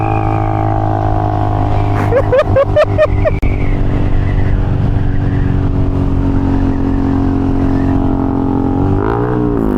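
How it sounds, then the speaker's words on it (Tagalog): A loud Triumph Speed 400 motorcycle engine revs in several quick sharp bursts over a constant rumble, then idles, with another rising rev near the end. "Ah, ingay motor mo!"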